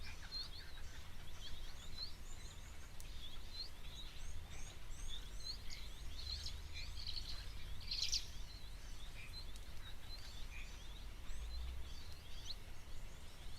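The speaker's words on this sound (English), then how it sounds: "the noises that they make, quite classical firefinch like chirps and whistles" Faint chirps and thin whistles from small birds repeat over a low outdoor rumble, scattered and somewhat distant.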